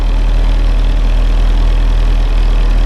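A Willys CJ2a with an L134 engine that burns some oil runs at moderate throttle, a loud, steady, close low drone with a constant beat and no pauses.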